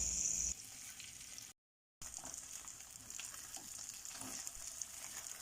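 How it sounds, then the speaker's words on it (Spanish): Sausages sizzle in butter in a pan with a quiet, steady frying hiss that drops out completely for a moment before resuming. No one speaks. "Acabo de agregar las salchichas a la mantequilla. Vamos a esperar a que se dore perfectamente bien toda la salchicha."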